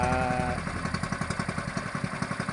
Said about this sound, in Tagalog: nagpainit lang ako ng makina ng bangka at baka mapanisan ng gasolina